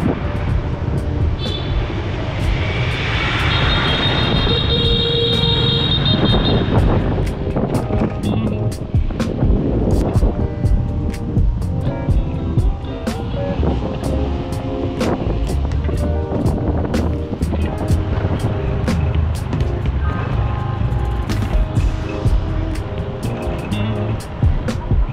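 Motorbikes riding a road under repair toward Cat Cat village in Sapa, Vietnam, with a steady engine drone and wind rush throughout, broken by bumps and rattles, while voices talk briefly in the background.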